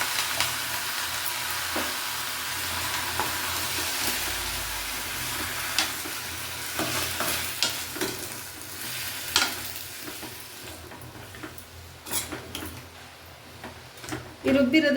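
Ground masala paste for vegetable sambar sizzles and fries in hot oil, a steady bright hiss with occasional stirring clicks and taps, close by, while a person talks over parts of it.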